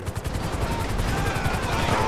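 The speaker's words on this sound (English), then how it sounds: "They're kind of shooting at everybody now." Dense, continuous gunfire from a GTA 5 police mod shootout, with rapid overlapping shots forming a steady loud rattle throughout under faint game ambience.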